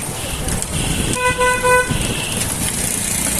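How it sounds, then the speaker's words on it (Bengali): A motorcycle horn sounds one clear, steady honk of under a second on a busy street near a market and railway station, standing out above the background road noise. "মোটর সাইকেলের হরনও দেওয়া যায়"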